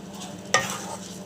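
Raw rice dry-fried in an empty nonstick kadai for payesh gives a faint, soft sizzle, with one sharp scrape of stirring partway through.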